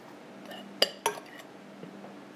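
A spoon scooping banana cheesecake mixture into dishes makes two quick, close clinks of metal on dishware, followed by faint handling noise.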